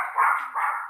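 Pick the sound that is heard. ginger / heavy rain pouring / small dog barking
small dog barking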